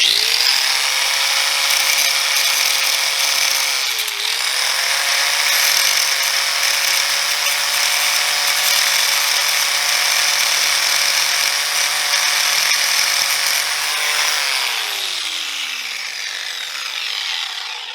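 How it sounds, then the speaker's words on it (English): A power grinder cuts off a bolt head on a motorcycle chain tensioner from a 2004 Honda Rebel CMX250, giving a loud, sustained, high whine with a brief dip in pitch midway before it winds down at the end. "I'm just gonna grind off one of these heads here and make this a little bit easier to take apart."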